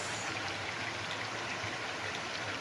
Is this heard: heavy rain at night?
yes